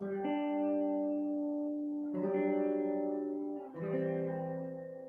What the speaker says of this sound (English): just squeezing the guitar a little bit, which is even better if you've got some reverb going.